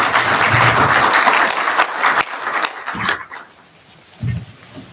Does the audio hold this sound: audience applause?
yes